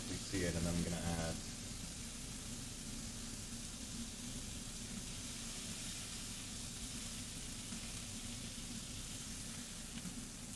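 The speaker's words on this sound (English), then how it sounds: "I'm just gonna wait until they're all nicely seared" Burger patties searing in a pan, a continuous soft hiss and sizzle that stays faint and steady, with a brief louder clatter at the very start.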